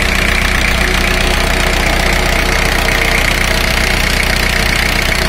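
A car engine idles during a cylinder power balance test on cylinder number four, giving off a loud, close, steady mechanical rumble with a fast even pulsing and slight knocking that runs unbroken throughout, with no talk.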